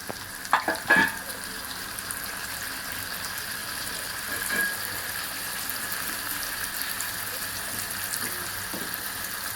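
Brinjal, onion and chopped tomato fry in oil for masala brinjal, opening with a few sharp clatters as the pan is stirred, then settling into a steady, moderate sizzle.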